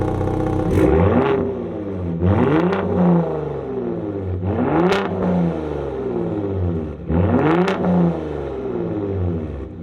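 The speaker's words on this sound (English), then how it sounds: "you just heard those revs on the Raptor" A 2021 Ford Raptor pickup's twin-turbo V6 revs up sharply four times, each rise climbing in pitch then falling back to a deep, rumbling idle, close and loud.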